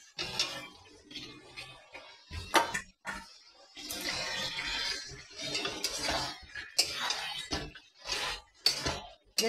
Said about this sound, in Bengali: এবার আমি কচুটা দিয়ে দেবো।